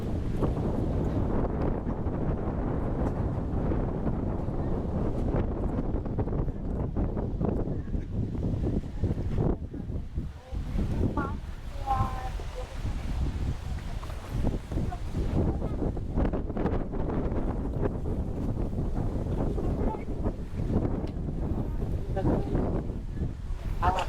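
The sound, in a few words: strong wind blowing into the microphone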